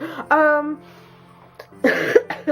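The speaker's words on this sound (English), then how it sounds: "Still got the cough" A couple of harsh, close coughs, with a short voiced sound between them and a breathy pause.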